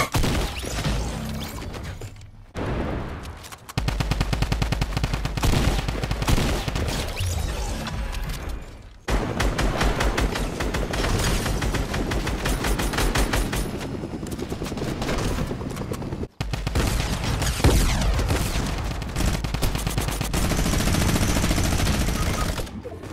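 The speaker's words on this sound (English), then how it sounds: "Get the drum gun." A drum gun blasting in a PC shooter game: long, dense stretches of rapid automatic fire, loud and continuous, broken by a few brief pauses.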